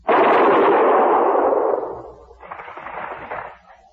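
An artillery cannon fires one loud, close blast that rolls away, followed by a second, fainter rumbling report.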